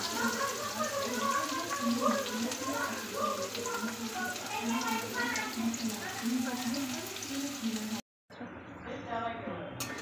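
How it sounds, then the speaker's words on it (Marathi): Onion frying in hot oil for a matar paneer, a steady close crackling sizzle that runs on evenly, then briefly cuts out before resuming. "तेल तापून झालेलं आहे। आता पहिले सर्वप्रथम आपण कांदा भाजून घेऊया।"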